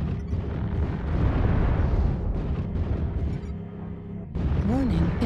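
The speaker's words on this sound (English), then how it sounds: "Warning, incoming missile." Heavy explosions roll through a video game battle, a dense, continuous rumble of blasts with a warbling alarm tone near the end, under an automated warning voice.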